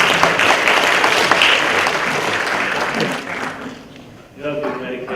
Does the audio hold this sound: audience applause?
yes